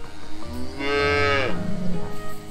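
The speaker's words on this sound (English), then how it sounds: "And with a little vocal coaching from Mom, lets out his very first moo." A newborn bull calf lets out his very first moo, one long, loud, close bellow with the mother cow nearby, set against light farmyard background noise.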